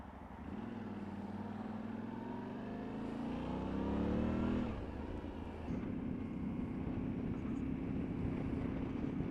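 A Yamaha Tenere 700 World Raid motorcycle engine revs up through a rising pitch, shifts gear, then settles into a steady drone while riding, with wind noise throughout.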